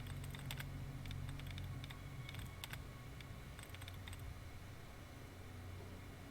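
Computer terminal hacking in the video game Fallout: New Vegas, with quiet clusters of quick keystroke clicks in short bursts over a low steady hum, no voices.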